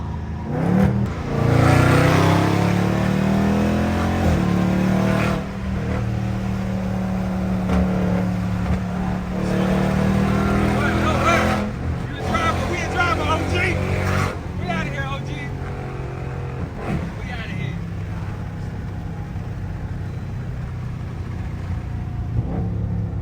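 Cars launching hard side by side in a street drag race, a Scat Pack against a CTS-V, engines roaring and rising through the gears with a loud rumbling pass, while people talk and shout excitedly over it.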